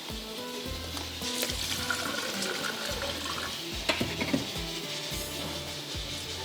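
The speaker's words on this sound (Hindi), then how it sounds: "यहाँ पर हम इसका बिल्कुल पानी जो है निकाल देंगे ताकि ये जो पानी ज़्यादा ना हो" Water being drained off rice while cooking, with steady running and splashing, occasional louder sloshes and clinks of a pot, heard alone without any talking.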